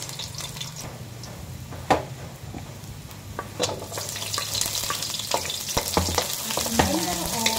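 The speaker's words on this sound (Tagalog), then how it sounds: "igisa lang natin tapos palabasin lang natin yung aroma ng luya bago natin i-add yung sibuyas" Ginger sautéing in hot oil for chicken tinola, a close sizzle with repeated scraping stirs and clanks of a utensil against the pan, growing busier and louder toward the end, no voices.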